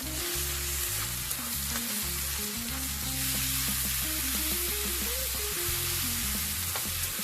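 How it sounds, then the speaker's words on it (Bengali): Garlic paste and browned onion frying together in hot oil for an Indian-style mutton curry, giving a steady, close hiss of sizzling over soft background music, with no talking. "ও পেঁয়াজের সাথে রসুনটা ভেজে নেব"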